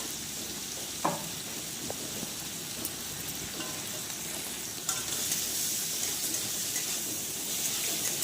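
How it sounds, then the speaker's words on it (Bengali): Prawns seasoned with salt and turmeric fry in hot oil, giving a steady, close sizzle throughout with a brief sharp crackle early on and louder spatter toward the end, no talking. "চিংড়ি মাছগুলোকে লবণ আর হলুদ দিয়ে চিংড়ি মাছগুলোকে ভেজে নেব।"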